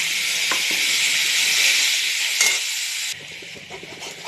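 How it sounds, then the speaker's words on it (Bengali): Whole cumin seeds sizzling hard in hot oil in a wok, a loud steady hiss with a few faint clicks and stirring knocks, easing slightly toward the end. "এবার কড়াইতে ফোড়নগুলো দিয়ে দিচ্ছি।"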